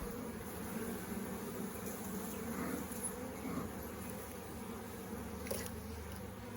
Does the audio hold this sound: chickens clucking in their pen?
no